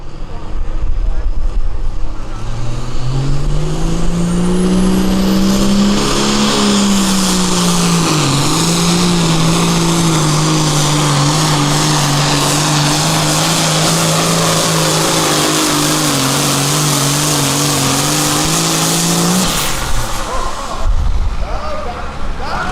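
Pulling vehicle at a tractor pull, its engine straining in a loud, sustained roar that slowly rises and wavers for about twenty seconds before cutting off, with crowd and announcer noise underneath.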